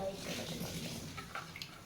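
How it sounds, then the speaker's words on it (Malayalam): More water is poured into a cooking pot of salted fish curry, a soft, continuous splashing trickle heard close but quietly, mixed with talking. "കുറച്ചുകൂടെ വെള്ളം ഒഴിച്ച് കൊടുക്കുന്നുണ്ട്."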